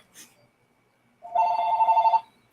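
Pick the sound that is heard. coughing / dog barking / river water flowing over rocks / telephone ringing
telephone ringing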